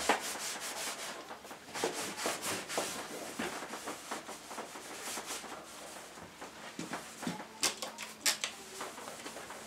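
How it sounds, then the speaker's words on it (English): A cloth wipes Harley Davidson matte paint polish over a painted Triumph Tiger panel, giving close, soft rubbing strokes in uneven bursts, alone with no voices. "So, as with the side panels, a little wipe over of the polish."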